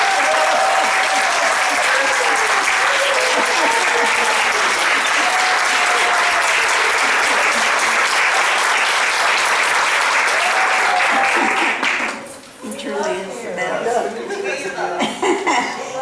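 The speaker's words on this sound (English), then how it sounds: "Let's give Brandon a round of applause." Sustained applause from a large audience, steady and loud for about twelve seconds, then fading as scattered clapping and murmuring continue.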